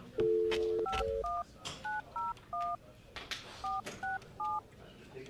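Telephone dialing: a long dial tone followed by a rapid string of keypad beeps in short, evenly paced bursts, with faint background noise.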